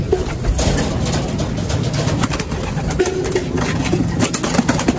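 Racing pigeons at a club loft during training, steady cooing and flapping over a constant engine-like hum, dense and fairly close throughout with no talk.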